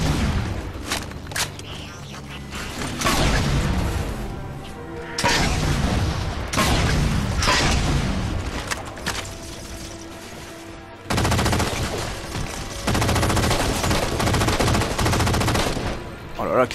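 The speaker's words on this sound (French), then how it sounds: "Ah, le bruit est super sympa de cette arme." A powerful weapon firing in the Halo 4 video game: loud bursts of rapid automatic fire with booming impacts, coming in long sustained volleys separated by brief pauses.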